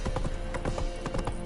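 A horse's hooves clip-clop in a quick, steady rhythm close by, the sharp knocks of each step filling the short moment with no talk.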